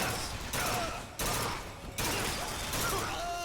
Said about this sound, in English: Oh, this is a burst gun.